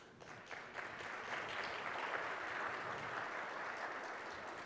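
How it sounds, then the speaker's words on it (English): Faint, distant audience applause at a Galaxy S8 smartphone launch event in India swells up quickly and holds as a steady, even patter of many hands clapping. "They deserve a big round of applause."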